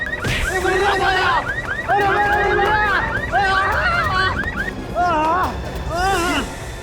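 A warbling electronic siren wails in repeated rising and falling sweeps, loud and close, cutting in and out in several bursts.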